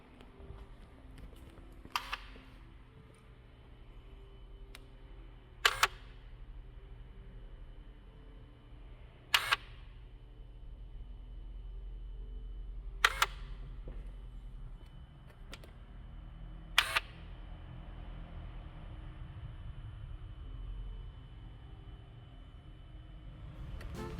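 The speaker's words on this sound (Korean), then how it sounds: "2번 밸브 테스트를 해보는데 작동 소리만으로는 정상으로 보였습니다" A DISA intake valve on a BMW E90 328i actuating during a test, giving several sharp mechanical clicks spaced a few seconds apart over a steady low engine-bay hum.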